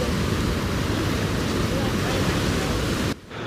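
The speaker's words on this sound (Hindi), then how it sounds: "तेज बहाव है नदी का।" The Mej river between Kota and Bundi in spate after heavy rain, a dense, roaring rush of strong flowing water, loud and unbroken, dipping abruptly near the end.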